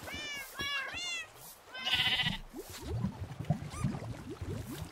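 Sheep bleating in Minecraft, several wavering calls in a row over a busy bed of game sounds and clicks, fairly faint overall.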